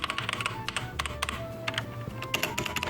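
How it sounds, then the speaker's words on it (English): Rapid clicky keystrokes from a budget mechanical gaming keyboard, a steady uneven patter of sharp taps up close with no voices. "that's what it's like to type with this keyboard"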